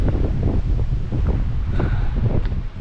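Wind gusts buffet the microphone on a mountain trail in the Smoky Mountains, producing loud, continuous low rumbling and rustling throughout.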